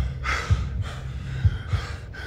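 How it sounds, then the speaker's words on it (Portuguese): Tired, heavy breathing comes in slow, loud gasping inhales and exhales, close to the microphone, with a low hum underneath and no speech. "A respiração cansada"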